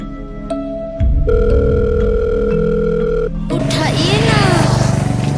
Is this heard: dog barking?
no